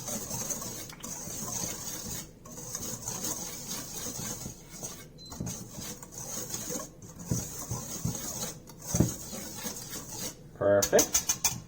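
Dry pancake ingredients, including flour and salt, are whisked in a bowl with a quick scraping, rattling rhythm, close and fairly loud, ending in a burst of sharper clinks.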